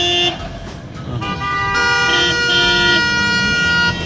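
A car horn blares close by in traffic, a short toot followed by a long sustained honk of a couple of seconds over low road rumble.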